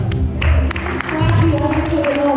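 Congregation at a French-language church worship service applauding and cheering, a dense, steady wash of clapping and voices filling the space throughout.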